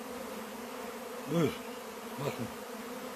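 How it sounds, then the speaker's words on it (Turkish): Honeybees of the new season swarm around a beekeeper working an open hive without mask or gloves, a steady close buzzing drone with a couple of bees passing near, while someone speaks briefly over it. "yeni sezon arıları bunlar."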